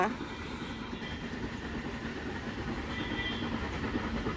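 A mountain railway train in Ooty rumbles past nearby with rhythmic clattering wheels and a steady roar, loud and close.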